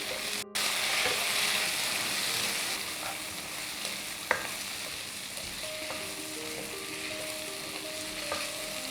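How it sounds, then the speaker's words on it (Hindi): Tomatoes and onions fry in a kadai for dhaba-style kadai paneer, a steady loud sizzle running throughout with occasional clinks and scrapes of a spoon stirring the mix. "अब हम इसमें टमाटर डाल लेते हैं और इन्हें भी चला लेते हैं।"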